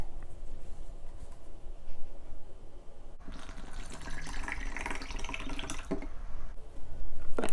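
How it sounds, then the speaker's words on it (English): Water is poured into a meal pouch for a British ORP breakfast ration, a steady close liquid rush with splashy bursts that grows busier midway. "let's get some water in there."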